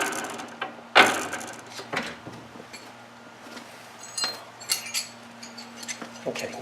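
Loose gear of a noisy garage door opener, freed from its cable, giving off scattered light metallic clicks and clinks over a low steady hum, close by and fairly quiet.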